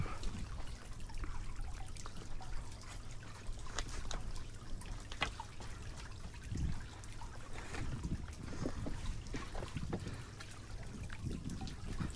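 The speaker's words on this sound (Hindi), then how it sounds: "और नीचे से पानी के बहने की आवाज़ें" Quiet meltwater trickles and gurgles beneath rocks on a hike in Gilgit-Baltistan, a soft continuous flow with occasional small splashes and drips.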